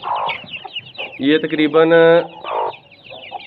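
A broody hen clucks over her month-old golden buff chicks in a backyard coop, a run of loud close clucks and a drawn-out hen call rising midway, with someone speaking over the start and end.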